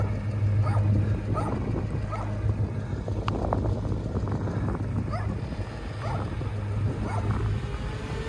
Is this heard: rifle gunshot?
no